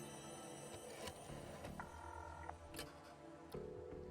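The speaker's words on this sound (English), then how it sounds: "The phone is fixed. Time to call for a taxi." A telephone in The Darkside Detective video game being dialed, with sharp clicks and short tones followed by a ringing tone, faint and alone.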